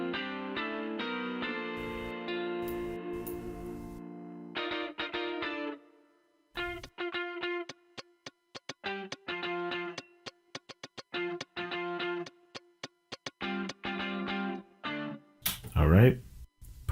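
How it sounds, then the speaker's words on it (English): Chugging rhythm guitar with slight distortion in a gospel track, panned and compressed, playing short choppy chords in a steady pattern with brief gaps, ending in a burst of noisier effects. "adding like the rhythm guitar with a slight distortion on it"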